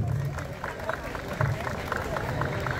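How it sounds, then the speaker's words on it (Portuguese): A crowd at an outdoor celebration of a town's political emancipation anniversary in Ouro Branco, Alagoas, breaks into sustained applause, a steady wash of many hands clapping with murmured voices underneath. "salva de palmas, Ouro Branco"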